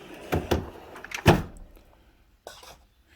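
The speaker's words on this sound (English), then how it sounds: "let's close that drawer" A drawer slides shut in a workshop where rat traps are being set, giving a few short knocks and a louder thump, followed by a fainter bump a moment later.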